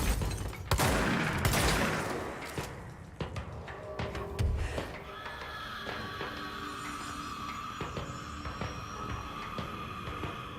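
Rapid bursts of gunfire in the video game Control fire off in dense volleys at first, then settle into a steady mechanical rumble with scattered shots, loud and close throughout with no voices over it.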